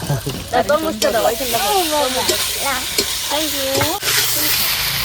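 Food sizzles and crackles in hot oil close by, while a person talks over the frying.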